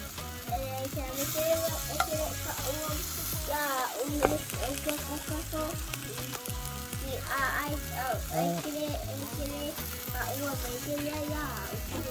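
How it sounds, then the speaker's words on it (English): Sausages sizzle and spit steadily on a barbecue grill, a dense, even crackle of frying fat with occasional scraping and turning sounds, heard close. "But I'm gonna pop the sausages here."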